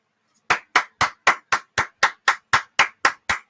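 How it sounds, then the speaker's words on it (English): One person claps alone: twelve sharp, even claps in a quick steady rhythm, close and loud against silence. "let me just stand up and just give them a round of applause"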